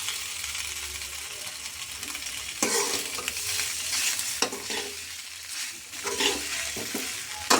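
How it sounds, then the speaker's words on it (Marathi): Boiled pasta is stirred in a pan, with close scraping and clinking strokes over a low sizzle, coming in uneven bursts. "आपण पास्त्याला पण छान हलवून घेतलेलं आहे"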